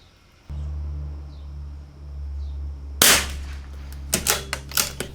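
A single sharp crack from a CZ457 rimfire rifle firing Eley Match ammunition at an outdoor range rings out over a steady low hum, followed by several lighter mechanical clicks.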